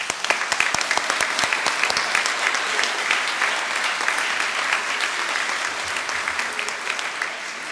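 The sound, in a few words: audience applause for students at awards ceremony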